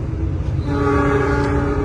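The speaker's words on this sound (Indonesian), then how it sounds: "Ini ada kereta api apa ini ya?" A local train, likely bound for Purwakarta, rushes past near Cikarang as heard from aboard the Argo Merbabu express: loud, steady rolling rumble and rattle close by, with a sustained horn-like tone swelling midway.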